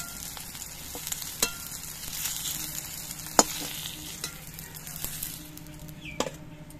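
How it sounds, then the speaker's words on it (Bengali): Bitter gourd fries in a little oil in a wok, giving a moderate crackling sizzle punctuated by sharp spatula taps and scrapes against the metal at irregular intervals. "কড়াইতে অল্প তেল আছে, এই জন্য অল্প করে উচ্ছে দিয়ে আমি ভাজছি।"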